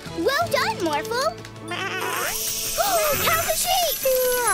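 Cartoon sheep bleat in wavering, quavering cries layered with music, close and clear, while animated characters talk over them.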